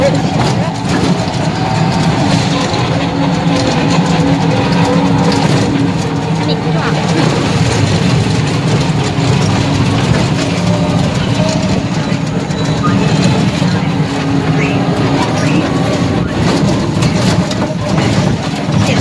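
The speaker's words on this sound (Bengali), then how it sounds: "এখন টোটোতে উঠবো, টোটোতে উঠে দেখাচ্ছি।" A steady, loud rumble of road and motor noise fills a ride in a toto electric rickshaw, continuous throughout, with people talking faintly over it.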